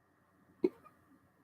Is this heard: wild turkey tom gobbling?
no